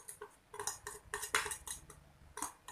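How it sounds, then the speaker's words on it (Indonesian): A plastic spoon stirs potassium nitrate into solution for homemade hydroponic AB Mix fertiliser, giving repeated clinks and scrapes against the container in irregular bursts, close and fairly quiet, with no talk. "Kita ambil sendok plastik ya. Bisa kita larutkan seperti ini."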